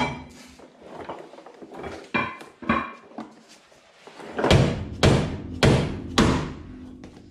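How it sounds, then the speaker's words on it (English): A hammer strikes a stuck engine part on a Ford Falcon, several sharp metallic blows in an uneven then steadier rhythm, close and clear, mixed with a few lighter knocks and clunks. "I should probably get my hammer because this thing is stuck."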